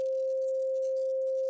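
Pure 528 Hz sine tone holds perfectly steady and unbroken at constant loudness, a single clean electronic pitch with nothing else present.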